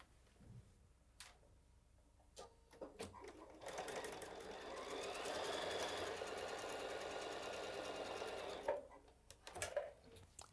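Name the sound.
sewing machine sewing quilt block pieces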